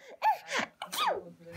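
A voices an imitation of a sneeze, two sharp breathy bursts about half a second apart, close and fairly loud, during a game of making animal noises.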